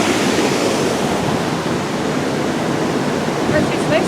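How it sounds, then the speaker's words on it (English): A waterfall in Ferris Provincial Park pours with a loud, continuous, even roar that fills the whole stretch, with no voices. "we also saw this waterfall from a trail up along there"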